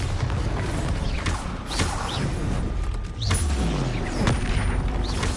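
In Hogwarts Legacy, Bombarda spell explosions burst as booming crashes amid clattering combat effects, several impacts in quick succession, loud and close.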